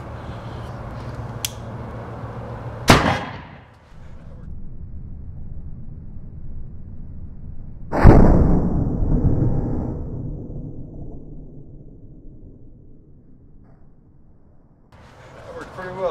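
A sharp click, then a loud booming whoomp from a homemade flame-shooting can cannon firing, followed by a long rumbling decay with a low hum underneath.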